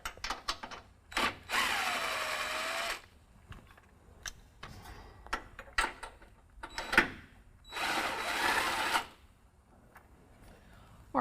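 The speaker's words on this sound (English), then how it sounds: "I'm going to go ahead and break them loose with a 13 millimeter socket" Ratchet and 13 millimeter socket breaking exhaust bolts loose on a 2019 Ram 1500, with bursts of rapid ratcheting clicks and metallic rasping separated by short pauses and clanks.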